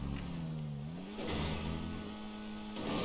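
Car engine in GTA 5 driving an Indian car, a steady mid-pitched drone that rises and shifts as it accelerates, loud and close, with brief noisy bursts over the top and no talking.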